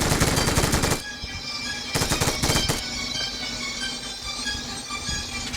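Rapid bursts of automatic gunfire rattle loudly, two long volleys separated by a pause, with a steady mechanical hum beneath.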